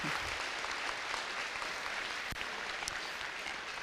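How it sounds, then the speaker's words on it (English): Applause from the audience at the Central Iowa Super Qualifier, a steady dense wash of clapping with one sharper pop partway through, filling the whole stretch without speech. "So give yourselves a round of applause"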